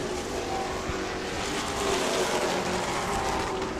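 Racing trucks' engines roar continuously at a distance on a race track, a dense mechanical drone of several trucks running together at speed.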